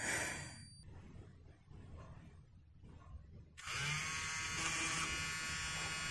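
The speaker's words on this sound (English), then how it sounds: "the whining noise definitely comes from the screen" The screen of an old Toshiba T2110 486 laptop gives a high electronic whine, faint and muffled at first, then surging into a loud, steady tonal whine with a buzzing edge partway through.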